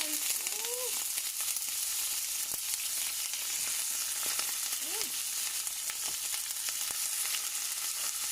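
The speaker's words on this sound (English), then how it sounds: "now we're gonna fry up some" Onions frying steadily in a pan in a home kitchen, a continuous bright sizzle with a few faint clinks and short tonal squeaks, no talk.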